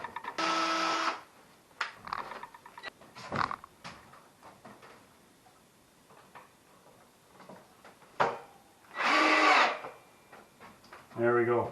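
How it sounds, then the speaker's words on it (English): A power drill bores a hole in an air compressor handle in short, loud whirring bursts, separated by clicks and handling noise, with the last burst quick and choppy. "I'm going to drill another hole on this side"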